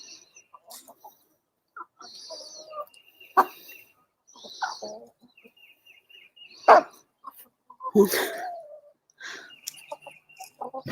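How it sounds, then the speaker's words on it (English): A dog gives several short, sharp barks spaced irregularly through a quiet outdoor scene, moderately close, with birds calling faintly in the background. "You barking at me?"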